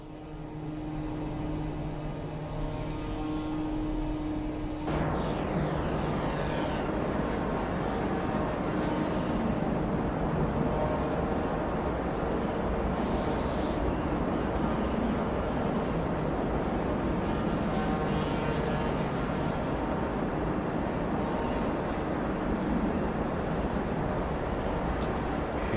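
Twin PT6 turboprop engines on a DHC-6 Twin Otter in Microsoft Flight Simulator 2024 build into a steady, loud droning whine with a broad rushing roar and a thin high tone layered on top, running continuously throughout.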